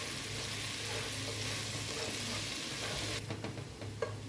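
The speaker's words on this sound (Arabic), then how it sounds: "هشوح الثوم لحد ما ياخد لون ذهبي خفيف" Garlic cloves sautéing in a pan until lightly golden, a constant even sizzle that softens toward the end as a few stirring clicks and scrapes come through.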